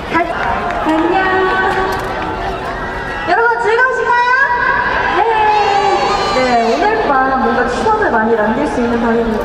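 A large concert crowd at an outdoor festival cheers and shouts continuously, many voices blending into a loud, excited roar that rises and swells.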